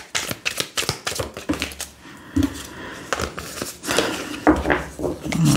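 Oracle cards are shuffled by hand in quick, irregular bursts of riffling and slapping, close and crisp, with soft talk in between.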